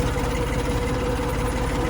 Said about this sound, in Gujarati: હાવ સ્લો ટ્રેક્ટર હાલ્યું જાય છે।